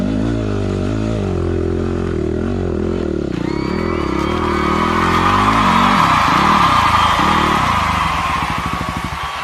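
A Yamaha WR250R dirt bike engine revs hard on a bush trail, its pitch climbing and dipping through throttle blips before rising into a loud, sustained high-revving run, close and dominant with some clatter.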